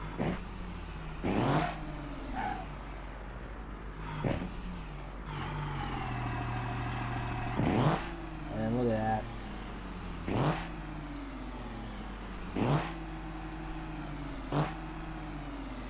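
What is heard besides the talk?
diesel truck engine revving in BeamNG.drive video game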